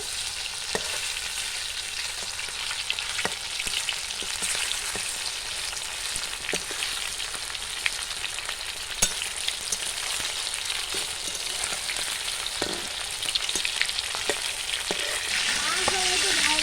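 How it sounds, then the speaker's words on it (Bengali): Chicken pieces for chilli chicken frying in oil while being turned, a continuous loud sizzle with scattered scraping and clicking of a spatula against the pan, the hiss swelling near the end. "মাংসগুলো উল্টে পাল্টে খুব ভালো করে ভেজে নেব।"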